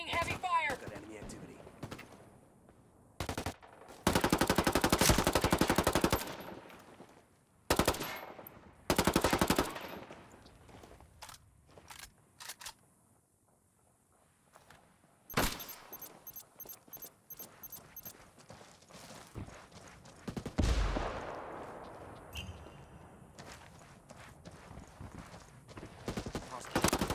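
Gunfire in the Ghost Recon Wildlands video game: loud bursts of automatic weapon fire and single shots in uneven clusters, with stretches of quieter ambience and radio-style voices speaking between the volleys.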